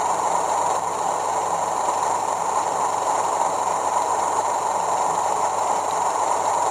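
A TTS sound decoder in a Bachmann Class 37 model plays through an iPhone speaker, imitating the diesel locomotive's engine as a steady, dense drone that holds unchanged, alone and fairly loud.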